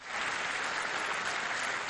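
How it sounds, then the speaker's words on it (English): A resounding ovation fills the UN General Assembly chamber as a Palestinian leader enters, dense sustained applause from a large crowd, steady and loud throughout with no voices standing out. "Then a resounding ovation as a Palestinian leader entered the General Assembly chamber"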